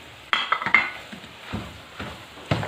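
Homemade khoya being mixed into carrot halwa in a pan: several sharp spoon clinks and scrapes against the pan in a quick cluster, then sparser stirring knocks with a faint sizzle beneath.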